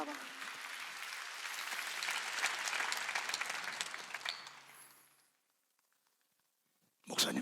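A church congregation at a Sunday worship service bursts into loud, sustained applause that swells, then fades to silence before a brief burst of clapping returns.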